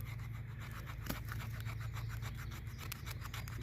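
Spine of a Bark River Forrest Scandi bushcraft knife scraping wood into shavings, a quiet, close series of rhythmic rasping strokes with a sharper scratch now and then.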